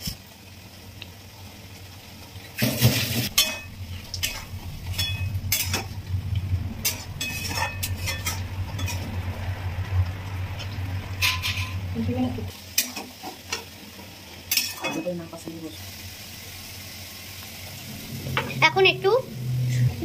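Prawns fry in a pan for malai curry and are stirred now and then. A steady sizzle runs under intermittent utensil scrapes and clinks, with a voice speaking in places.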